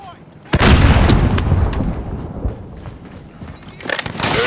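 Grenade blast in Call of Duty Modern Warfare co-op on Xbox Series X: a sudden loud broadband boom erupts, then a sustained rumbling roar with scattered crackling gunfire. Another burst of fire follows near the end, and voices can be heard under the mix.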